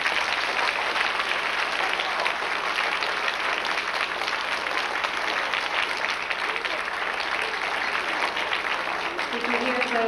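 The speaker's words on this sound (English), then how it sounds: "Give them a nice round of applause." An audience at a 1996 elementary school performance applauds children. The clapping is dense and steady and stays loud for the full length, with a faint voice near the end.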